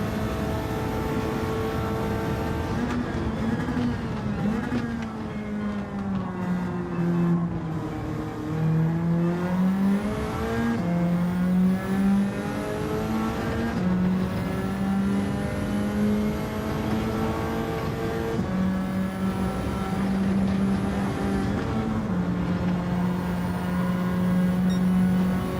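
Race cars in Gran Turismo 7 during a lobby race, including a GT-R, roar continuously with a steady high engine drone that shifts pitch through gear changes and corners, loud and unbroken for the whole stretch.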